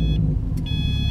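A 2011 Subaru Impreza WRX Premium engine runs after starting, a loud low close rumble with a steady electronic chime tone sounding over it.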